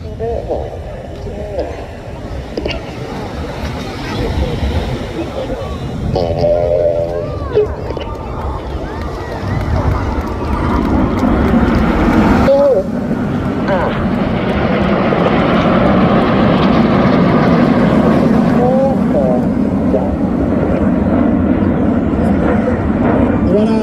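Red Arrows display jets fly in formation at the Clacton-on-Sea air show in Essex, a loud, steady jet roar that swells over time, heard under continuous commentary.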